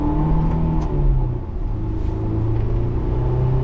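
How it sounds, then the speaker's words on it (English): A 2001 Honda S2000 AP1 pulls away and drives, its engine note climbing and settling in steady mid-pitched revs over a low road rumble, heard close from inside the car on a winter drive. "We did have it idling, and we'll just take it for a quick spin around here"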